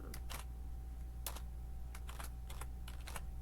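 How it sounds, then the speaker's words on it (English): Quick irregular bursts of typing on a computer keyboard, light clicking keystrokes in short clusters over a low steady background hum, close and fairly quiet. "I am typing as we go"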